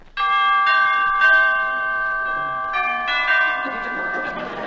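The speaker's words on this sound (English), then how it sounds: "Well, I'll ring the bell." A doorbell chimes in a 1949 radio comedy show, with several sustained ringing bell tones sounding one after another, clear and bright, each note overlapping the last as it decays.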